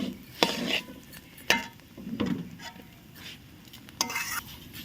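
Rice and dal added to a pan and fried for khichuri, soft stirring scrapes and a few spoon knocks over a faint low sizzle, close by.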